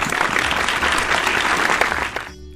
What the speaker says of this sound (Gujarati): હિતેશભાઈ માટે તાળીઓના ગડગડાટ તો થવા જ જોઈએ ને